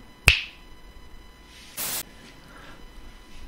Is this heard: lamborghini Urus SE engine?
no